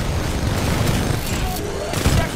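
Sustained gunfire and booming blasts from a Titanfall 2 single-player campaign battle, a dense continuous barrage with heavier thuds near the end, with faint voices mixed in.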